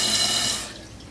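Toilet tank refills through a newly installed Fluidmaster fill valve, a loud rushing hiss of water that tapers off sharply midway as the float rises and the flow shuts down to a quiet trickle.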